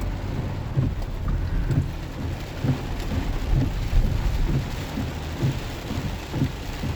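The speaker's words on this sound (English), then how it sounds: "Some hard rain." Hard rain drumming steadily on a car while driving in Redwood City, California, a dense continuous wash with low rumbling road noise underneath and no voices.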